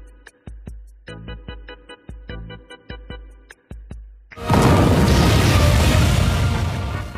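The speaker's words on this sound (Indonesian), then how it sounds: "maka musuh akan auto meledak" A loud, roaring explosion blast erupts from a finishing attack in the King-Ohger tokusatsu show. It follows a run of rhythmic, ringing metallic struck notes, then sustains as a dense, rumbling wall of noise.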